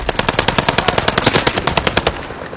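Rapid automatic gunfire in a battle royale video game, a loud continuous burst of evenly spaced shots lasting a couple of seconds and then tapering off.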